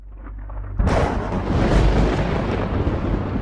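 A loud, close thunderclap crashes in suddenly after a low rumbling lead-in, then rolls on as a dense, sustained roar for several seconds, set in a stormy scene for a bank advertisement.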